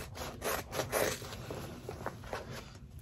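Scissors snip through layered fabric and zippers while cutting around a size 5 SideKick bag, a close series of uneven rasping, scraping cuts with short pauses between them.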